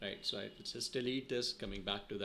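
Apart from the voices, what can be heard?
No everyday noise stands out behind the speech.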